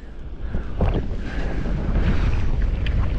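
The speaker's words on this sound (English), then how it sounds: "Wind too high." Strong wind roars and buffets a microphone outdoors by open water while wing-skateboarding, a steady loud gusting rush that fills the whole stretch with no voices.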